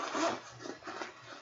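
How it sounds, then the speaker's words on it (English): A zipper on a bag pulled open and closed in a couple of quick rasping strokes, close and clear with no talking. "It got a little zipper right here."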